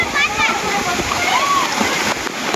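Water gushes and splashes loudly beneath a water park pirate ship, with continuous nearby rushing and children's voices audible throughout.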